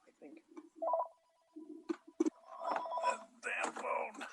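A telephone rings during an online planning board meeting, its tonal ringing bursts mixed in with people talking over it.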